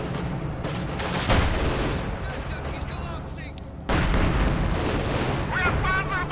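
Bursts of MG-42 machine gun fire in Company of Heroes 2 mix with booming artillery and battle noise, loud and dense throughout, while a voice talks over the action.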